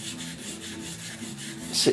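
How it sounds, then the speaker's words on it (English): Primer on a 1969 C10 truck's rusty roof is hand-sanded with a sanding block, a rhythmic series of soft rasping back-and-forth strokes, close and steady, ending in a louder scrape. "I'm going to get in here and sand this"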